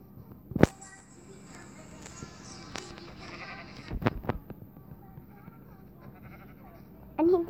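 Minecraft sheep give a few brief bleats scattered among game sound effects, with one sharp click early on and a louder burst near the end, while faint speech sits in the background.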